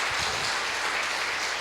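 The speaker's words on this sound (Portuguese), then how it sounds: "Aplauda o Senhor, glorifica a Deus." Congregation applauding during a Portuguese-language church worship service, a dense steady wash of clapping that fills the whole short moment with no voices on top.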